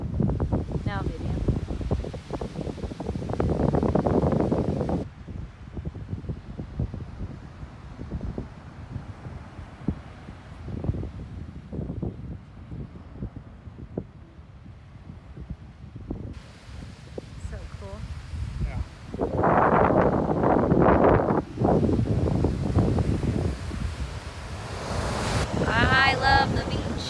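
Gusty wind buffets an outdoor microphone in loud rumbling bursts, easing midway and surging again, with a person talking intermittently beneath it.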